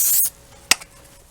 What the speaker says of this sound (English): Spray some silicone on those.